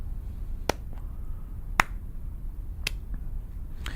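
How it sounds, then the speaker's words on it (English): Slow, sparse claps for a politician, about four sharp isolated hits spaced roughly a second apart over a quiet background hum, crisp and close. "Slow clap for Kamala."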